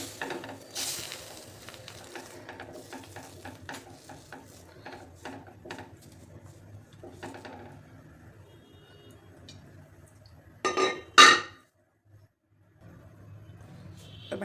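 Bhakri flatbread cooks on a hot tava, a quiet, faint sizzle broken by scattered light clinks and taps, then a brief louder clatter of utensils toward the end before it settles again.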